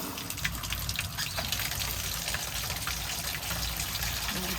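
Water sprays hard and steadily from a faucet in an RV kitchen sink onto dishes, a loud continuous gushing rush with a faint voice partly under it.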